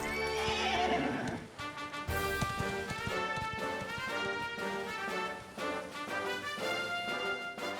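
Dragon Quest XI gameplay with a horse whinnying loudly at the start, then clip-clopping hooves mixed into a dense, continuous orchestral game score throughout.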